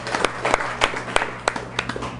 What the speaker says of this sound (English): that got to be applause